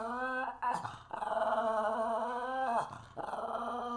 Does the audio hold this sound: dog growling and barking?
yes